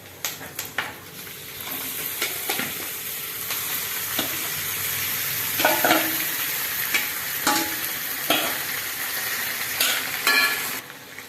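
Grated raw mango hits a hot pan of tempered curry leaves and sizzles, with a spoon stirring and scraping at intervals, close and steady, no talk.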